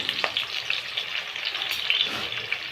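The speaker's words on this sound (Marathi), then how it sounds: "आता हा कांदा फ्राय करायला टाकलाय, गोल्डन ब्राउन होईपर्यंत याला आपण तळून घेऊया" Onion frying in oil for a home-style Sunday chicken biryani, a continuous close crackling sizzle with small pops and no talk.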